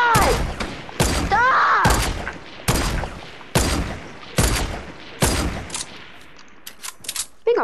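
Gunfire in the Fortnite video game: repeated loud bursts of shots in quick clusters about once a second, with brief shouting between early volleys and sparser, quieter shots near the end.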